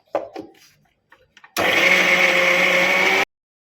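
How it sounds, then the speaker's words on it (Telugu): A mixer grinder whirs through coconut pieces and water in one loud, steady burst of under two seconds, after a few faint knocks and clatters. "ఫస్ట్ ముక్కలన్నీ మెత్తగా పట్టిన తర్వాతకి ఒక 4 స్పూన్ల వాటర్ వేసి మళ్ళీ ఒకసారి మిక్సీ పట్టండి"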